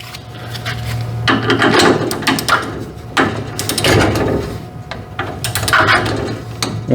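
Ratcheting and clanking of a torque wrench tightening feeder lugs on a 3-phase 400-amp circuit breaker, coming in several short bursts of clicking and metallic rubbing, close and moderately loud over a steady low hum.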